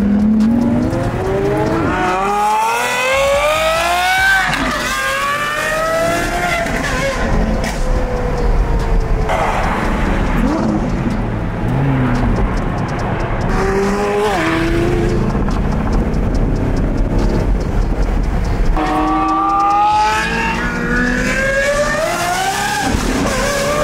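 Apollo IE supercar engine at the Long Beach Grand Prix 2021, a loud, continuous, high-revving roar with rising and falling pitch sweeps as it accelerates and shifts, close by with no talking.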